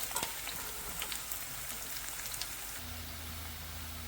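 Ginger and garlic fry in oil for Kerala beetroot pickle with a soft, steady crackling sizzle, faint and close. A low hum joins near the end.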